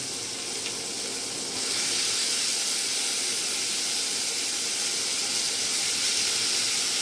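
Chopped onion and tomato fry in hot oil in a pan for a brinjal and mango sour curry, giving a steady close sizzling hiss that swells slightly louder partway through, with no voices.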